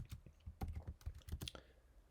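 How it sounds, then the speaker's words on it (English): Typing on a computer keyboard: a quiet, close run of irregular key clicks in uneven bursts, with no talk. "So I might want to start typing that in."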